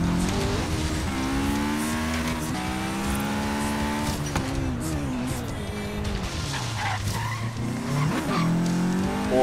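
Car tires squeal and skid during a race in the video game Forza Horizon 3, over a revving, accelerating engine whose pitch rises and falls, loud and continuous with no talk.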